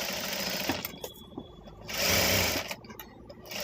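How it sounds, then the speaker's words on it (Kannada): A sewing machine stitches fabric for a butterfly bow, running in loud close bursts with short pauses between them. "ಇವಾಗ ಇದನ್ನು ನೀಟಾಗಿ ಈ ರೀತಿ ಸ್ಟಿಚ್ ಮಾಡ್ಕೊಳ್ಳಿ."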